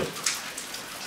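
Rain patters steadily on a vehicle's surfaces during a rainy drive, with water leaking in everywhere; scattered drops tap softly and close, with one sharper drip, no voices.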